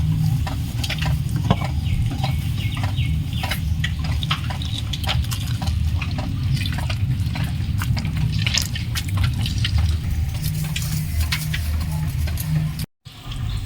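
Semolina and flour dry-fry in a wok for palm-fruit roll pitha, a continuous gritty rustle with rapid, steady scraping strokes of a spatula throughout, loud and close, with no talking.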